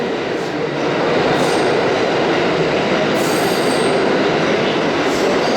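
A train rolls past close by, a loud continuous rumble of wheels on rails with occasional high squeals, steady throughout.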